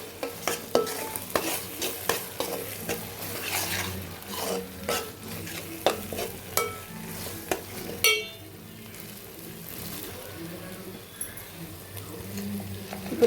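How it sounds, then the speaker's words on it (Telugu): Gongura, onions and tomato paste fry in oil for gongura prawns with a continuous sizzle, broken by frequent sharp spoon-on-pan clinks and scrapes for the first eight seconds before settling into a softer, even frying hiss. "గోంగూర, ఈ ఉల్లిపాయలు, టమాటా పేస్ట్ అంతా ఆయిల్ బాగా వేగాలి."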